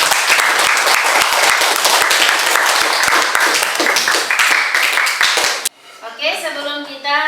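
Applause from a school classroom during an Islamic education lesson, with many hands clapping densely and loudly for about five and a half seconds before it stops abruptly and a voice begins speaking.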